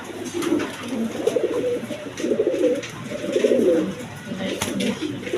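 Pigeons in a breeder's loft, where a pair has hatched two chicks, coo in repeated low, throaty phrases, close and fairly loud, one rolling coo after another with brief pauses between.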